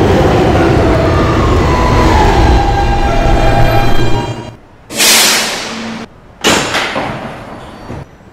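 An E subway train at Fairview Avenue rumbles loudly and steadily along the track, then the noise cuts out into near silence, broken by two sharp bursts of hiss or door noise.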